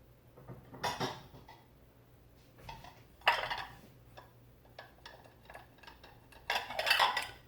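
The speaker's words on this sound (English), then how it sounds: "let me go ahead and get some mixing bowls" Mixing bowls clatter as they are pulled out and set down in a home kitchen, several sharp knocks and rattles at uneven intervals, close and moderately loud, with no talking.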